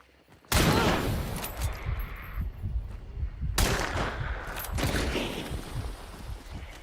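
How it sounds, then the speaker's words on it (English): An incendiary sparks weapon fires in a video game in two loud bursts, each a sharp crack that trails into crackling, rumbling fire. "Well, that's an incendiary sparks."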